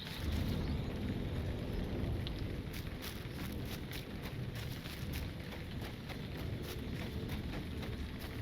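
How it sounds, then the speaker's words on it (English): Steady heavy rain with rolling thunder on a night in the Lord of the Rings Online game, a dense continuous wash of downpour under a deep low rumble, with no voices. "Definitely a miserable night to be out in the rain, huh?"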